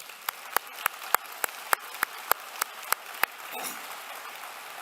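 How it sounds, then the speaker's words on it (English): Convocation audience applauding the graduates in a large ceremony hall: a thin run of about a dozen evenly spaced, sharp claps, moderately close, with a brief soft swell of noise near the end. "let's give them all a round of applause as well"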